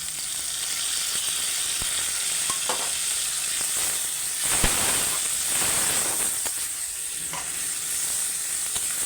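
Spice paste being sautéed with potatoes in a pan with turmeric: a loud, continuous sizzle with repeated scraping strokes of a spatula, growing busier in the middle, close up and with no speech.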